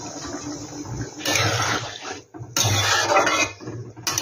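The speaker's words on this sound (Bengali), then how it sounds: "এবার এখানে আমি জল দিয়ে দেবো।" Warm water is poured into a pan of soybean curry in a home kitchen, two close, splashy pours of about a second each with a short pause between, over faint kitchen clatter.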